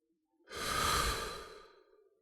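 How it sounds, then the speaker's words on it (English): A single deep breath, close and soft, building over about a second and then tapering off, alone without any talk. "Whatever you're doing, close your eyes, take a deep breath."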